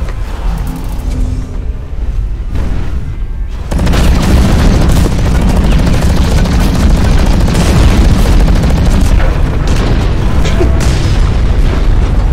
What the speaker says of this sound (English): Pathetic submachine gun.